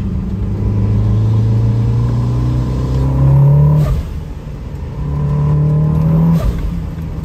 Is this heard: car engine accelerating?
yes